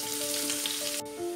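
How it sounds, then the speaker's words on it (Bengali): Potato pieces frying in oil in a pan on a gas stove, a steady close sizzle with a faint tonal hum running underneath and no talking. "এবার এই আলুটাকে আমি ভালো করে একটু ভেজে নেব"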